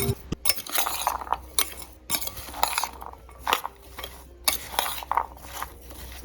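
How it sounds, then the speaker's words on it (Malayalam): A spoon scrapes and clinks against a container in quick, irregular strokes, close up, as a thick salted mango pickle mixture is stirred. No one speaks. "എന്നിട്ട് നമുക്ക് അസലായിട്ട് ഇതൊന്ന് ഇളക്കാം"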